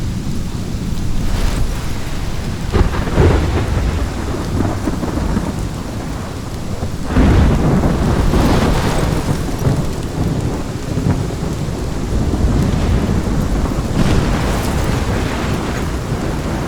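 Thunderstorm with heavy rain in the video game Life is Strange: a loud, constant downpour with repeated deep thunder rumbles swelling and rolling through, no voices.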